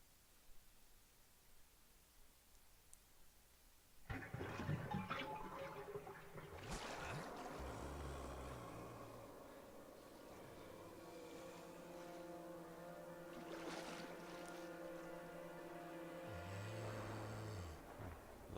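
Dirty water drains out after a plug is pulled in Resident Evil. After a few quiet seconds it starts abruptly as a steady gurgling rush with a droning, motor-like hum that lasts to the end.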